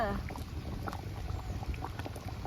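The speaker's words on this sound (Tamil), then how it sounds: "இப்போ குழம்பு ஒரு கொதி வந்துட்டுங்க" Fish curry (meen kulambu) at a rolling boil in a pot, giving a steady, dense bubbling hiss that continues evenly throughout with no talking.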